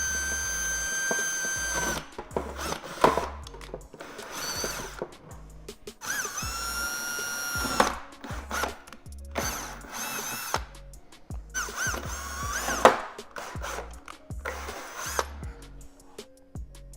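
A power drill boring holes while a front lip is fitted to a BMW F10 M5, heard as repeated short bursts of whirring with pauses between them, fairly close and loud.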